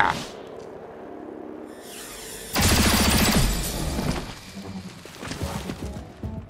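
Gunfire bursts in the turn-based tactical shooter XCOM: Chimera Squad, a dense loud volley starting midway and crackling on with scattered shots and impacts, over game music.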